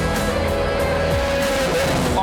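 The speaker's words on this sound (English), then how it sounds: "Cars are on track right now" Race cars lapping Sydney Motorsport Park on a test day, engines droning and shifting pitch as cars pass, with a faint tire squeal and continuous loud track noise.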